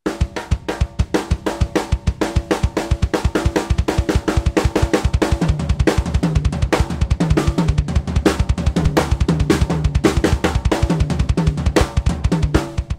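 A fast seven-stroke roll drum fill repeats continuously on a kit, snare strokes blurring into quick bursts with bass drum thumps woven into the pattern, loud and close with no talking.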